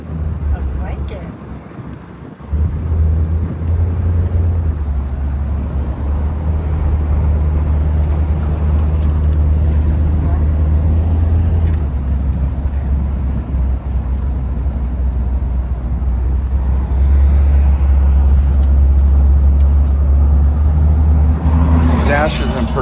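A 1957 Ford Thunderbird cruises on the road, a steady loud low engine drone and road rumble heard from inside the car, with wind noise and occasional speech.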